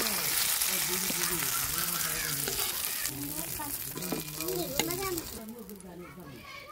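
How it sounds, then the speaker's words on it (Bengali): Tomatoes fry in a pan at a home kitchen: a continuous bright sizzle runs underneath someone talking almost the whole time, easing toward the end. "টমেটোটা কি সুন্দর লাল লাল করে ভাজে নিচ্ছি দেখেন।"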